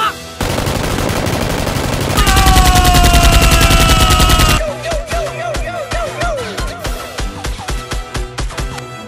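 Nerf blasters fire during a staged Nerf gun fight against criminals, with dense rapid bursts of shots and then a steady run of evenly spaced pops, loud and close.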